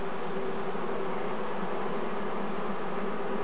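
Honey bees humming steadily in an open hive of a colony started the previous year, a dense, continuous close buzz with no talk over it.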